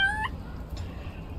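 A cat in the video game Little Kitty, Big City gives one short, clear, high meow near the start, followed by a faint second chirp over quiet background.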